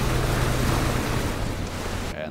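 A boat moves across water in PlayerUnknown's Battlegrounds, a steady rushing of water and engine noise with a broad wind-like roar, loud and constant before it cuts off abruptly near the end.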